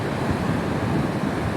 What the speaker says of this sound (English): just watching the waves crash